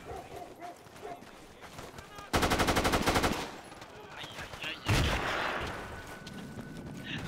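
A loud burst of rapid automatic fire in Battlefield 2 with the Lost-Soldiers Arctic Warfare mod, followed a moment later by another heavy shot or blast, with a voice talking during the quieter stretches.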